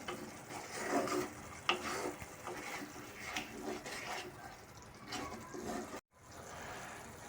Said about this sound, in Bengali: দেখো এখানে গ্রেভিটা ফুটে অনেকটাই কমে গেছে